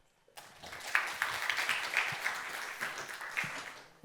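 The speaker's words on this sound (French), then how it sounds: "On peut l'applaudir bien fort." An audience at a French tech conference talk on cloud costs claps together, a sustained burst of applause that swells and then slowly fades, with no speech over it.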